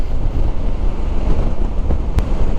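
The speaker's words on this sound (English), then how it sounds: "Too windy. Too damned windy." Strong wind buffets the microphone in a steady, loud roar with low rumbling gusts, outdoors in Yorkshire, and no voices.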